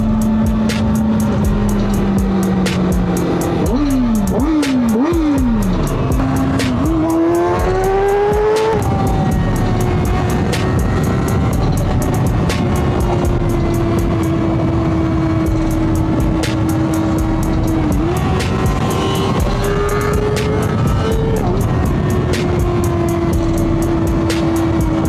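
A 2025 Kawasaki Ninja 500 motorcycle is ridden continuously, its engine note rising and falling sharply through quick gear changes early on, then holding a steady cruising pitch, loud and close with constant wind rush.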